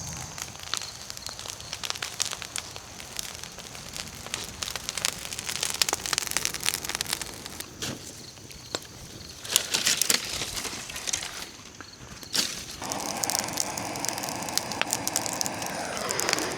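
A brush pile burning outdoors after a heavy rain, with steady dense crackling and popping of wet brush fire close by, continuous throughout with no talk.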